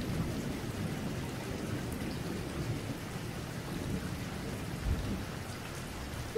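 Steady heavy rain with strong wind roars throughout, a dense low rumble with no voices, constant and close, with a slight surge near the end.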